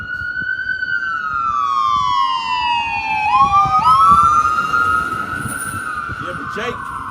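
An ambulance siren sweeps past in a loud, wailing pass, its pitch dropping sharply as it goes by, with road traffic rumbling underneath.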